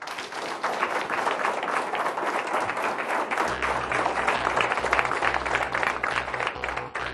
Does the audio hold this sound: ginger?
no